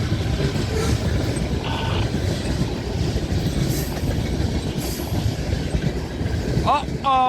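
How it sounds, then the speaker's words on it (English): A freight train carrying garbage rolls past, its steady rumble and wheel clatter continuous and loud throughout, with a brief squeal near the end and a short spoken exclamation. "I know where this train's going. It's going to Fostoria, to the dump."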